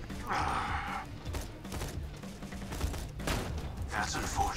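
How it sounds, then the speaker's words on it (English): Enemy gunfire in Borderlands 2 comes as rough bursts of shots, some near and some farther off, over a steady bed of game noise. Quiet breathy vocal sounds are mixed in. "Oh, okay, he's shooting me."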